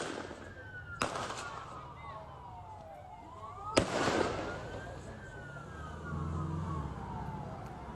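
Gunfire during the Bondi Beach attack in Sydney: two sharp, loud bangs a few seconds apart, with a siren wailing and sweeping in the distance and faint voices.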